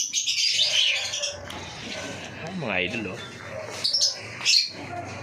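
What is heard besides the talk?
pet birds chirping in cages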